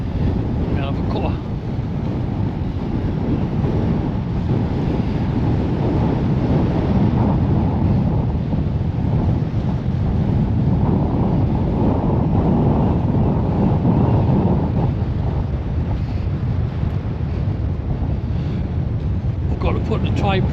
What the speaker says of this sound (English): Got to put the tripods at the side because the wind blows them.